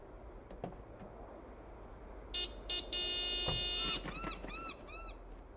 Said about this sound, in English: Do me a favor and honk the horn.